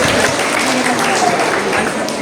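Dense, steady applause from a large audience at a school science lab inauguration and farewell ceremony, continuous and fairly loud throughout with no gaps.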